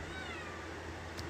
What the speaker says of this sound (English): if you hear my cat meowing